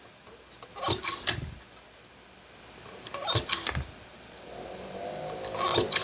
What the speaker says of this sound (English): So you're going to punch 12 holes.